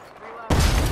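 A grenade blast in Apex Legends erupts halfway through, a sudden loud broadband burst that stays dense and rumbling to the end, following a quieter stretch of game ambience.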